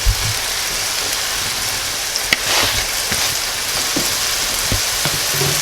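Mushrooms and fresh herbs sizzle steadily in a hot pan, a continuous close frying hiss broken by a few soft clicks and taps of stirring.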